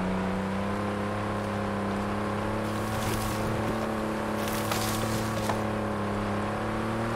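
An off-road vehicle in Forza Horizon 5 drones along with a steady, humming engine note at an even volume, and a brief louder rush partway through.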